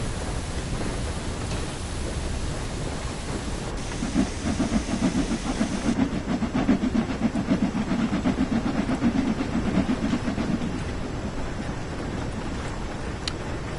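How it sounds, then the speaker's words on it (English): Steady hiss of a steam locomotive in Train Sim World 4, a broad continuous rush with a slightly louder, rumbling middle stretch, heard alone without talk. "I think the sounds on the steam locomotives themselves are actually not too bad"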